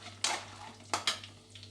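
Mustard seeds, cumin, chana dal and peanuts fry in a pan, heard as a soft sizzle broken by a few sharp scraping, clinking stirs against the metal over a faint steady hum.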